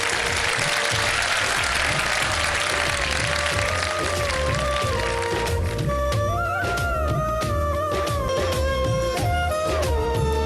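A studio audience on a Ramadan television show applauds in a loud, full wash of clapping that fades into music, with sustained tones taking over in the second half.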